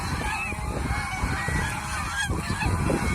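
Geese on a goose farm honk repeatedly in loud, close, overlapping calls above a constant background of flock noise, with no talking.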